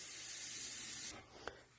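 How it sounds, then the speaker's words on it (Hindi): Steam hisses steadily from a pressure cooker holding lemons for pickle after the gas is turned off, then cuts out, followed by a brief sharp knock. "तो मैं जैसे भाप निकलेगा मैं इसको कुकर को खोलूंगी"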